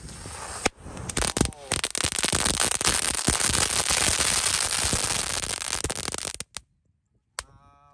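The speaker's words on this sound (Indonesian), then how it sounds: "Selanjutnya ini ada mercon Telur Dino Pretek, ada 4 pak, kita nyalakan semuanya bosku." Four packs of Telur Dino Pretek firecrackers set off together, a dense, loud rapid crackling barrage of pops lasting several seconds, then a couple of isolated bangs after a pause.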